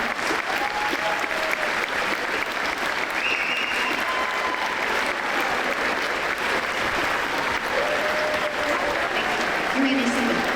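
A large audience at a high school graduation ceremony gives a sustained round of applause, a thick, even roar of clapping with faint cheers and voices scattered underneath.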